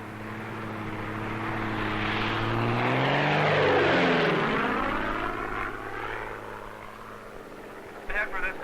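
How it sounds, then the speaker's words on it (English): A propeller-driven weather research airplane from a base in Montana flies overhead, its engine drone rising to a loud pass and then fading, with a narrator speaking over it. "This plane, operating from a weather research base in Montana, is about to perform an experiment on a cloud."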